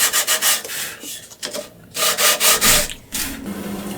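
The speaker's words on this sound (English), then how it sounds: "And sandpaper as well." Sandpaper scrubbing wood while restoring Fender Rhodes Mark 1 keys, a run of quick back-and-forth rasping strokes in close, loud bursts with short pauses between passes.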